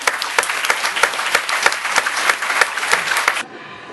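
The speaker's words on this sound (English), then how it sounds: "Now, yes, round of applause." An audience at a UK debating final applauds with a dense burst of clapping, loud and close, which holds steady for about three seconds and then stops abruptly.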